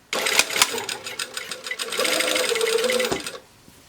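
A sewing machine stitches a bodice seam up into the armhole, running in a close, rapid whir for about three seconds with a few brief starts and a clunk before stopping.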